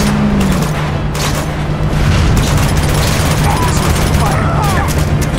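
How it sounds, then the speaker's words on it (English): AK assault rifle fire in the video game Uncharted 2, a dense, continuous rattle of shots and booms lasting throughout, loud and close, with game noise layered over it. "this fucking AK is the worst AK"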